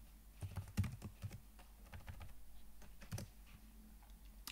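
A computer keyboard clicks under fast, uneven bursts of typing while code is written, the keystrokes close and crisp over a faint room background.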